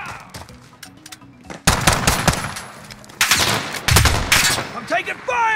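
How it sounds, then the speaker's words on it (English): Video game gunfire from Call of Duty Warzone: bursts of rapid automatic shots and scattered single shots over several seconds, fairly close, mixed with other in-game effects. "I'm taking fire!"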